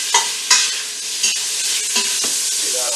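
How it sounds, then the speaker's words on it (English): Beef for a beef and ale stew sears with a steady hot sizzle in the pan, while a utensil scrapes and stirs it in a few sharp, close strokes. "get that all seared up"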